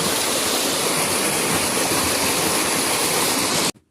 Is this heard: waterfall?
yes